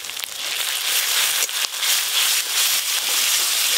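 Ground ginger, cumin and coriander paste with turmeric sizzles in hot oil in a home kitchen while fish curry is cooked, a steady dense crackle and spatter running close and unbroken, with no talk over it.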